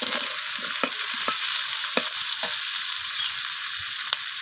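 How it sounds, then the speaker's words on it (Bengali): Potatoes and radish stir-fry with onions in a pan, a steady close sizzle with scattered scraping clicks of the spatula throughout. "তো আলু আর মূলোটাকে দিয়ে আমি পেঁয়াজের সাথে একটু ভাজা ভাজা করে নিচ্ছি।"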